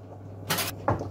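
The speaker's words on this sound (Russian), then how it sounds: "Массу пока уберу в холодильник." A refrigerator door opens with a brief broadband whoosh, then bumps shut with a soft thud a moment later, in a quiet home kitchen during cooking, with a steady low electrical hum underneath.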